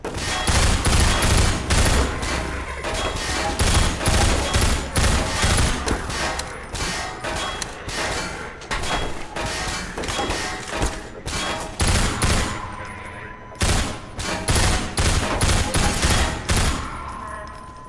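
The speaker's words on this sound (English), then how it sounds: "stairs are not a safe place to be shooting a gun from" Sustained gunfire from the video game Half-Life 2 played in VR, with loud, dense bursts of automatic shots and clangs that continue almost without a break.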